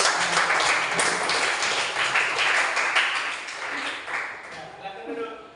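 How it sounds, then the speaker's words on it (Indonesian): Classroom of students clapping after a group presents a lesson on funeral prayer, a steady broadband patter of many hands that fades slightly toward the end, with some talking and voices mixed in beneath it. "Kasih tepuk tangan."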